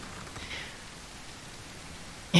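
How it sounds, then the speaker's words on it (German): Steady rain falls in the survival video game No One Survived, a soft even hiss that stays constant throughout and ends in a brief sharp click. "Ist mir ja, als ob das jetzt regnet."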